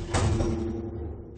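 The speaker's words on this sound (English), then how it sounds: "Enjoy this creaky door, Apple" Creaky door sound effect in a Christmas pantomime of Dick Whittington and his Cat, a single loud drawn-out creak with a low groaning tone that fades away.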